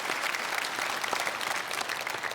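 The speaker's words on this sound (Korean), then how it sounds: "박수하겠습니다." A church congregation at a Sunday worship service claps in dense, sustained applause that fills the room evenly from start to finish.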